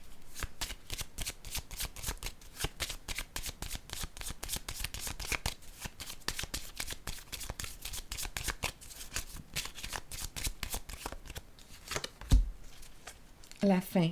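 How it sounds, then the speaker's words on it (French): Tarot cards being handled and laid down one on another, a steady run of close, crisp papery slaps and flicks throughout, with a few heavier taps near the end and a voice speaking faintly underneath. "je vais déposer une carte sur celle-ci"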